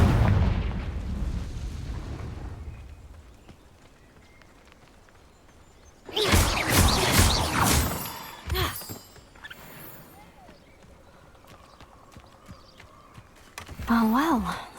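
Spell explosion from Hogwarts Legacy: a loud, dense magical blast bursts in mid-clip and trails off in crackling debris, preceded by a quieter low-rumbling stretch, with another sharp burst near the end.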